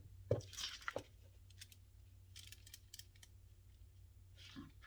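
Scissors cutting junk mail envelope paper from the back, with a couple of crisp snips near the start followed by faint rustling and small handling sounds, quiet and close, with no talking.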